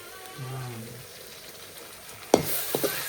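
Spices with ginger garlic paste and turmeric fry for a crab curry, a soft continuous sizzle under low background talk, followed by a sharp clatter of a spoon against the pan and a few stirring knocks.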